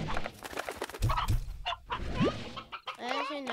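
Chickens clucking in the Slime Rancher video game, a run of close, bright squawks and clucks, with a longer crow-like call near the end.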